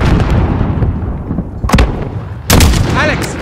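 Mortar blasts and gunfire in Call of Duty: Modern Warfare, with a rumbling battle din followed by two loud, sharp booming impacts, the second heavier and trailed by echoing debris.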